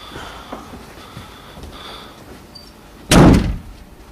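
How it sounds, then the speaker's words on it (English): A single loud door slam hits abruptly near the end, heard in a quiet tattoo parlor early in the morning after a few seconds of faint room noise. "So you heard a door slam."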